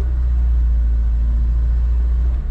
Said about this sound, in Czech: Slyšíte ten motor přede jako kočka.